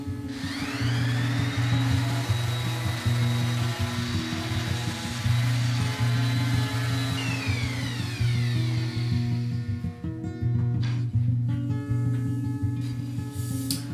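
Steady powered whirring of a sander smoothing wooden backs with finer grit sandpaper in a woodworking shop, a continuous loud drone with shifting whine and pitch sweeps throughout.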